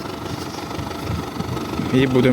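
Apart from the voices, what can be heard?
tractor engine idling with loader attached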